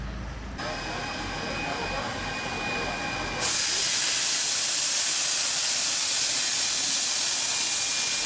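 Hunslet Mogul steam locomotive 2705 lets out a loud, steady hiss of steam while uncoupling from its train, surging suddenly louder midway and continuing broadband and close.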